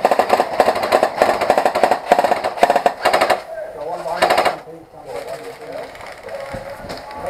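Airsoft guns firing in a woodland skirmish game, bursts of rapid automatic fire close by during the first few seconds, then quieter scattered shots and movement through the trees, with people talking.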